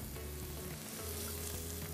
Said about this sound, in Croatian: Sada ćemo ubaciti papriku da se prži.